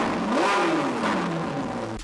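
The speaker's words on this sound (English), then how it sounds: "I introduced this car sound effect," A car accelerating, used as a sound effect in a trap-style beat: a loud engine whir that rises in pitch and then sweeps back down, over a continuous dense backdrop.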